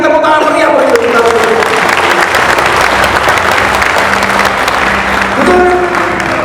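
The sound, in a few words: audience applause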